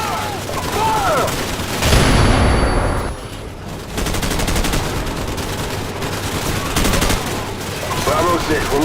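Loud automatic gunfire in a Call of Duty Modern Warfare campaign firefight, heavy bursts and a booming blast early on, then sustained rattling fire with shouted voices around it.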